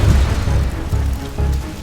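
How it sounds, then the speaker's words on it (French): A car bomb detonating at an embassy gate, heard as a series of deep, heavy booms that rumble and roll close by, loud and low with no voices. "À peine a-t-elle passé le portail de l'ambassade que la bombe se déclenche."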